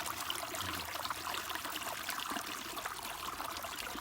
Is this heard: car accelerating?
no